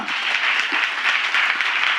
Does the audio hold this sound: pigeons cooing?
no